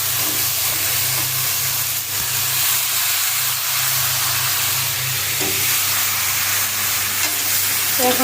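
Spice masala is stir-fried in a pan with a loud, hissing sizzle that stays steady throughout, broken by a few light clinks of a utensil near the end and no speech.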